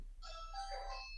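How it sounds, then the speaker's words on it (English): A doorbell chimes indoors, a short two-tone electronic melody heard faintly and somewhat distant over a steady low hum, with no one speaking. "that's the doorbell"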